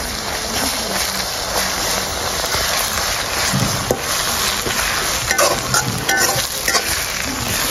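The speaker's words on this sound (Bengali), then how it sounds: "এখন দিয়ে দিব রসুন আর আদা বাটা, দিয়ে আরো কিছুক্ষণ ভেজে নেব।" Onion frying in a pan with garlic and ginger paste just added, a steady dense sizzle throughout with occasional stirring scrapes and clinks near the end.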